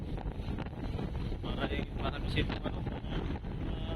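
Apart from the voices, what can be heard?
strong wind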